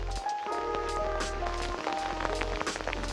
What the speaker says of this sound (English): it's actually started to rain again, and it's meant to be coming down pretty hard for the next few hours